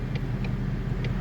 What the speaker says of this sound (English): I know the ticking is there.